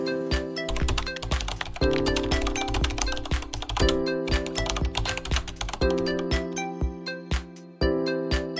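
A prompt is typed on a computer keyboard as a fast, continuous patter of close key clicks. A steady tonal backing underneath shifts every couple of seconds.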